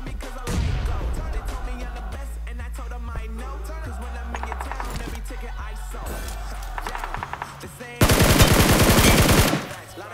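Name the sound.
gunfire from a battle royale video game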